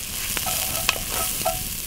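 Chopped onion frying in a hot pot of oil for a Sunday tomato sauce, a steady close sizzle with soft stirring scrapes and a few sharp pops, no voices.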